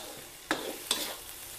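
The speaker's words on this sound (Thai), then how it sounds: "เราก็เอาหอมแดงอะค่ะใส่ลงไปหลังจากนั้นเราก็จะเอากระเทียมกับรากผักชีค่ะใส่ลงไปผัดด้วย" Shallots, garlic and coriander root stir-fried in oil in a pan for a savory khanom tian filling: two quick, sharp scrapes of stirring about half a second apart over a low, steady sizzle.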